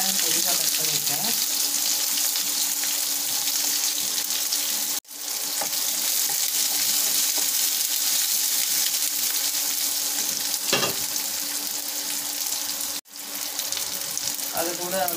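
Mustard seeds and finely chopped onions fry in a pan, giving a steady, loud sizzle that runs almost the whole time, with two brief breaks in the sound.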